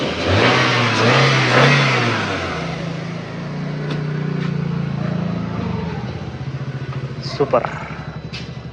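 A vehicle engine that has just started after trouble, revving up loudly close by before settling into a steady idle, with a person talking over it.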